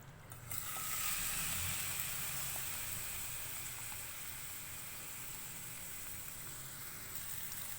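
Chicken pieces frying in about two tablespoons of hot oil in a pan on a stove give off a loud, steady sizzle and hiss that starts abruptly and holds nearly constant throughout.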